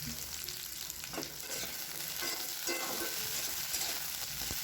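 Carrot, cauliflower and potato pieces fry with salt and turmeric in a pan, giving a dense, even sizzle with occasional soft stirring scrapes, close and quiet, with no one talking.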